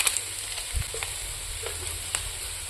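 Spices such as ginger, garlic, cumin, red chilli and meat masala fry in a pan for bamboo shoot curry, giving a steady close sizzle with a few soft clinks of stirring.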